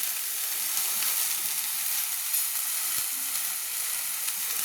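Ghugni masala with turmeric sizzles softly in a hot pan while being stirred, a continuous faint hiss with occasional light scrapes, no talking.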